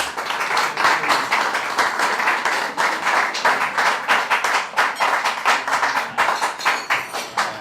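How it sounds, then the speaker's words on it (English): A round of applause from the audience at a regional awards evening in Cape Town, many hands clapping in a close, continuous patter that stays loud and steady throughout with no talk. "Let's give another round of applause to Mark."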